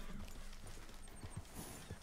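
Horse hooves clopping in the video game Red Dead Redemption 2, a few soft, uneven thuds under a steady background of ambient game sound.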